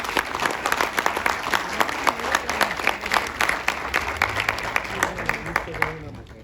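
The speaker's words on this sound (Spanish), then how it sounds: "Recibamos a la ingeniera González con un fuerte aplauso" Audience applause welcoming an engineer to the stage at an aerospace manufacturing talk, steady dense clapping from a crowd holding for several seconds before tapering off at the end.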